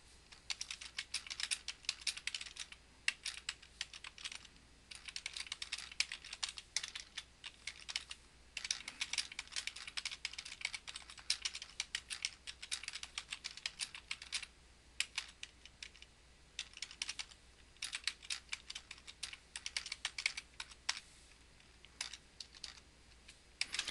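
Steady typing on a computer keyboard as comments are entered, rapid uneven clusters of close crisp key clicks with brief pauses, running continuously for about twenty-four seconds.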